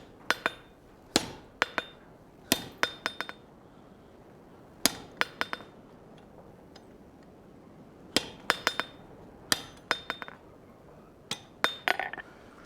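A blacksmith's hammer rings on hot steel over an anvil while a tenon is forged for a colonial-style trivet: sharp metallic clinks in quick bursts of two to four blows, separated by short pauses, close and clear.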